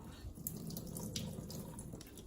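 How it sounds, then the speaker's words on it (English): Water squeezed from cooked spinach twisted in a cloth, a steady trickle and dripping into a basin, soft and close with no talk. "you can see all of that extra water coming out"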